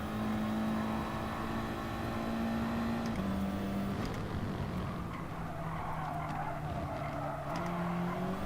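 Race car in the FIA Manufacturer Series racing game understeering through a corner, engine droning steadily with a shifting pitch while tires scrub and skid continuously for several seconds, loud and close, no talk.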